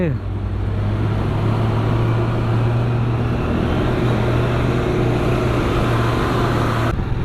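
Two trucks race side by side on a mountain road near Chilas, filling the scene with a loud, steady engine drone and a low humming tone that holds without a break.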